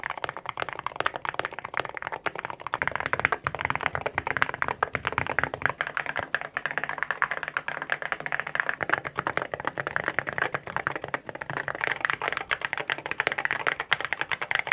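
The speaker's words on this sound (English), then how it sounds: "the thockiest keyboards I can build" Rapid, continuous typing on a thocky mechanical keyboard, with dense clacky keystrokes close up and no voices.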